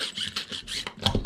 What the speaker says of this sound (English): This is a 4mm chainsaw file. So I just run that through the arm really quick